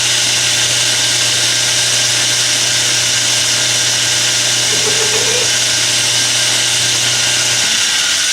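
Power tool chamfering the edge of a spacer, a steady, continuous machining whine with a low hum that runs for about eight seconds before cutting off near the end.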